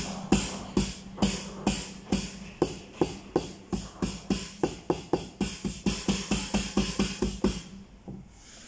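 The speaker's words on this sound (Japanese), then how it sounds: "じゃあ電気ドラムの音です。" An electronic drum kit is struck in a fast, steady run of about thirty sharp hits, close and fairly loud, with no one talking, before it stops abruptly near the end.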